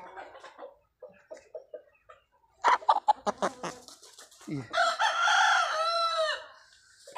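Aseel rooster, a few soft clucks, then a loud, close, drawn-out crow; someone speaks briefly at the start.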